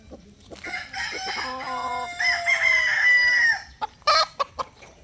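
Six-month-old pure Black Kelso gamecock stags crow nearby, one long, loud crow followed by a few short, sharp calls and clucks.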